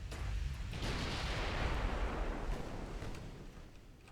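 Heavy shells come in during naval combat in the video game Ultimate Admiral: Dreadnoughts. A sustained, rumbling roar of splashes and booms swells and then fades, moderately loud, with no talk.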